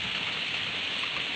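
Heavy rain pours steadily in Tamsoult, a continuous dense hiss with no breaks, close and even in level.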